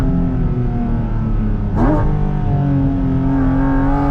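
A Porsche Cayman GT4 RS engine revs loudly and close up, holding a steady high note, then a sharp throttle blip and quick rising sweep before settling back into a sustained, buzzing drone.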